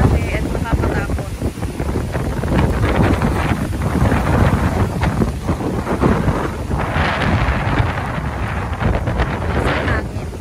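Strong wind at sea off Bohol roars steadily and buffets the microphone, with water and boat noise beneath and voices faintly mixed in.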